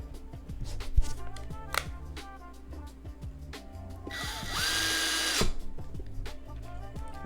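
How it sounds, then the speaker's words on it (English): Power screwdriver driving screws into a PXN0082 game controller, a steady high whir of the motor around the middle of the stretch, set among lighter clicks and handling noises of the plastic controller, close and fairly loud, with no talking. "I'm gonna put the screws in now."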